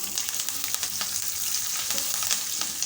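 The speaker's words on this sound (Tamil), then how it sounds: "மோர் மிளகாயை நம்ம தாளித்து போட்டோம்னா சூப்பராக இருக்கும்" Buttermilk chillies and curry leaves sizzle in hot tempering oil, a loud, close, continuous crackle with small popping spurts throughout.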